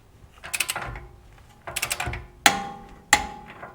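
Ratchet wrench tightening a tie rod clamp bolt on a Toyota Landcruiser, two bursts of rapid clicks followed by two sharp metallic clacks, close and clear.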